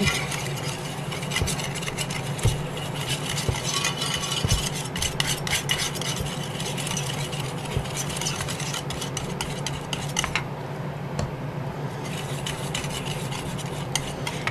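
Textile paint mixed with textile additive being stirred in a small container, a continuous close scraping and tapping of the utensil with rapid irregular clicks, no voices.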